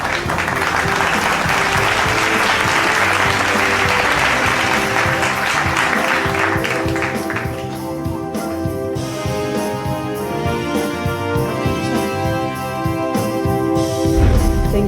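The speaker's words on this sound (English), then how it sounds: "A very warm round of applause for these very special girls, please." Loud, dense applause fills the hall at the NDTV Indian of the Year 2025 awards as girls are honored, then gives way about halfway through to swelling music that carries the rest.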